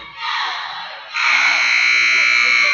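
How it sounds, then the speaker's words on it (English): A loud, sustained electronic buzzer sounds in a gym during a girls' basketball game, signalling the end of a timeout with 13 seconds left in the half. It rises after a brief dip and holds steadily to the end. "That's a buzzer to sound that there's only 13 seconds left in this half, in this timeout."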